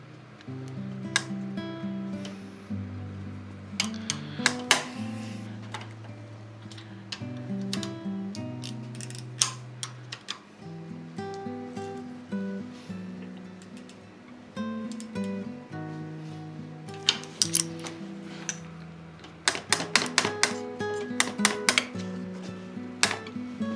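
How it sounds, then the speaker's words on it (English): Ratcheting wrench clicking on a vintage Bridgestone T700 motorcycle, with close, repeated sharp metallic ticks in irregular bursts and clusters against a quiet workshop background, with no talk. "We're gonna put a wrench on it."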